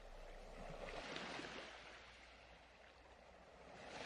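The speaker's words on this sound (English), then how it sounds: "the flowing sound of the waves" Ocean waves wash onto a moonlit beach as a soft, steady surf that swells and recedes, faint and distant with no voices.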